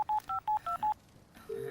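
Telephone keypad tones dialing a number, five short tone beeps in an even rhythm, followed by a faint ringback tone on the line.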